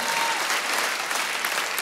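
A church congregation applauds during a sermon, steady dense clapping filling the space without pause, loud and close throughout.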